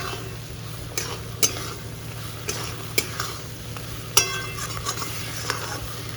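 Bottle gourd curry cooking in a pan with a little ghee, a low sizzle under repeated scraping knocks of a spoon stirring against the pan.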